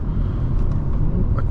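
A 2020 Audi S4 3.0T Prestige with Quattro all-wheel drive is driven through corners. Its engine and road noise form a close, steady low rumble with no voices.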